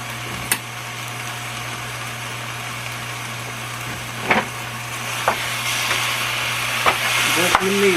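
Lean ground beef fries in a pan while being stirred, a steady close sizzle over a constant low hum, broken by a few sharp scrapes and clinks of the utensil.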